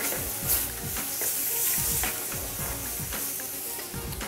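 Shrimp and stewed tomatoes sizzle steadily in a hot restaurant pan while being stirred, a constant frying hiss broken by soft scraping and clinking strokes of the utensil.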